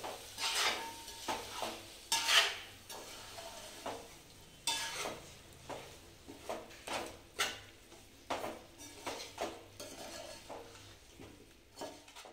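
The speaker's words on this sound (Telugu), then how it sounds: "వేయించిన ఉల్లిపాయలు, కొద్దిగా గరం మసాలా వేసుకొని బాగా కలుపుకోవాలి." A spoon stirs fried onions and garam masala through chicken for biryani in a metal pot, making repeated scraping strokes against the pan at a moderate distance, with faint sizzling and clinks between them.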